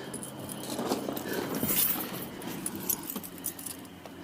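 Keys jingle and clink in bursts, close by, with faint rustling and a low background hum, beside a 1988 Chevy Silverado.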